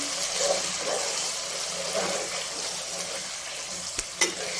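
Makhandi halwa is stirred and roasted in a pan with a steady close sizzle and soft scraping, and two brief utensil knocks come near the end.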